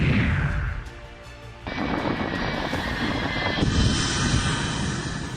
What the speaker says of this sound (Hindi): अमेरिका से सैन्य मदद लेकर इजराइल पहुंचा कार्गो प्लेन